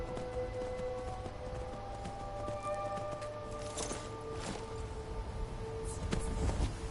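Horse hooves clip-clop at a steady walking rhythm in the fantasy game Skyrim, moderately close under ambient music, with a few louder thuds toward the end.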